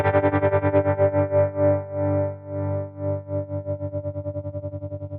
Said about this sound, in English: we attached the speed of the tremolo to an LFO, and then what did we shaped the curve